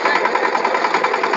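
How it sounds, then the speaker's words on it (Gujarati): A small power tiller, a mini tractor used for ridging cotton fields, runs steadily nearby with a dense, buzzing engine drone and a fast pulsing rhythm, with no talking. "કેમ અમાર નાનું ટ્રેક્ટર કેમ હાલે છે?"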